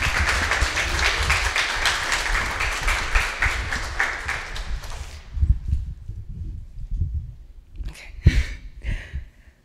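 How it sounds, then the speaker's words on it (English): Audience clapping at a Black history storytelling event, a dense burst of claps for about five seconds that stops abruptly, followed by scattered knocks and brief voices. "You can all clap again while I'm fixing this."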